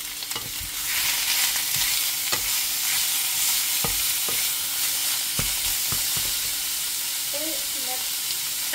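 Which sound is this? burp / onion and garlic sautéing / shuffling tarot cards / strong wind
onion and garlic sautéing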